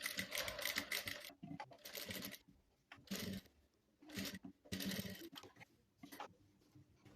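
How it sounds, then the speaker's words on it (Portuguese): Sewing machine running in bursts as it stitches bias binding along the top and bottom edges of a fabric cup coaster, close and loud, with several start-stop runs and short pauses between them. "E vou passar uma costura, prendendo esse viés em toda a extensão, na parte de cima e na parte de baixo."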